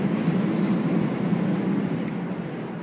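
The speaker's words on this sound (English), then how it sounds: "so there's a train." A train rumbles past at steady volume for a few seconds, a broad low roar with faint wheel noise and no voices.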